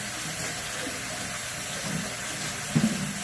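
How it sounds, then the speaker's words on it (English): Tap water running over lettuce being washed in a kitchen, a soft continuous hiss of flowing water at low level, with a faint thump near the end. "I'm just going to run it under water"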